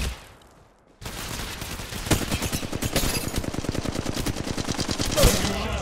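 A sustained burst of rapid automatic gunfire in the video game Apex Legends Mobile, loud and close, starting abruptly after a quiet second and continuing as steady rattling shots through to the end.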